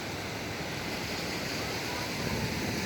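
Sea surf rolls onto the beach at Bucana, Nasugbu, Batangas, a faint, steady wash of waves with a constant broadband hiss and no distinct breaks.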